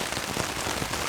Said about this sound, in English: If it keeps up like this and just keeps raining